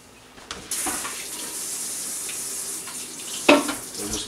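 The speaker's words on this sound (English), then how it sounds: "So let me wash off the mayo knife here" Tap water runs from a faucet into a sink while a mayo knife is washed, a steady hissing stream starting after a brief pause and close by, with a splashing surge near the end.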